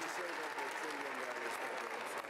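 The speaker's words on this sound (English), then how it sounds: "why are you clapping for that?" A crowd applauds at a political executive order signing, a brief steady wash of clapping at moderate distance with no break.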